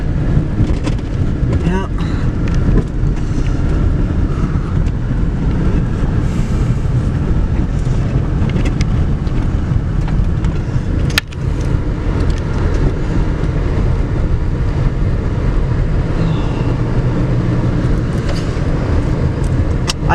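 A Subaru rolls along a dim forest trail in a state park, its steady low road and engine rumble filling the cabin with wind buffeting, one brief voice speaking once.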